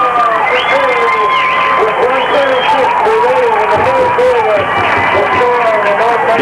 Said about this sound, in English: You can hear a happy North Montgomery crowd right down here below us.